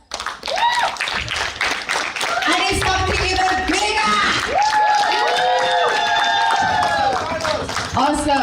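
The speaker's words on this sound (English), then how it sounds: "Another round of applause." Applause and cheering from an audience at a local youth conference, mixed with crowd voices and whoops across the whole stretch, steady and fairly close.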